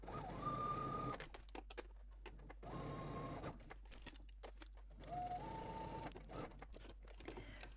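A sewing machine back stitches the side seam of a skirt, running in several short bursts separated by quiet pauses, close and clear.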